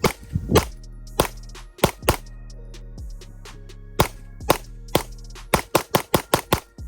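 Sig P226 X Legion pistol fired downrange in a series of sharp, loud, close shots, a few spaced single shots followed by quicker bursts, each with a short ringing decay.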